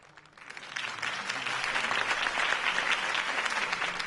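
A crowd bursts into applause, clapping swelling quickly and then holding as a dense, steady roar of many hands.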